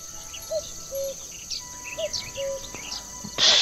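Crickets chirping in The Night of the Rabbit game, short repeated chirps in a loose rhythm over a quiet background with a faint steady high whine, brief bird-like tweets mixed in, and a burst of noise at the end.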